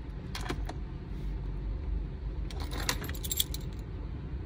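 Toyota smart keys jangle in short bursts inside a quiet car during key programming, a bright metallic clinking that comes and goes over a low hum.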